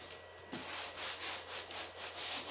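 Filler being sanded by hand on an HSDJETS F86 model jet, a soft rhythmic rasp of back-and-forth strokes about three per second, close but fairly quiet, no one speaking.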